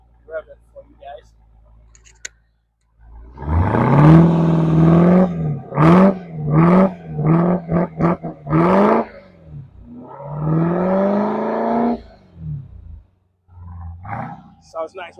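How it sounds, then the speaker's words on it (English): A Dodge SRT Hellcat's supercharged engine revved repeatedly up close: a long rising roar, then a rapid string of sharp throttle blips, another sustained rev and a final short burst. "Now, I'm gonna have my boy here rev it for you guys."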